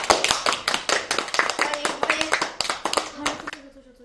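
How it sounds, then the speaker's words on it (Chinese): A small group claps steadily to welcome a new colleague at a company, a dense burst of hand claps that fades out as voices speak briefly at the end. "大家掌声欢迎"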